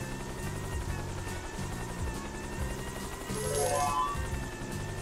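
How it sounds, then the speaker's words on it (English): Helicopter transformation in the video game Yooka-Laylee, a steady whirring rotor drone with a rising chime-like flourish near the end, moderately loud and without talk. "I think you can only get in here with the helicopter"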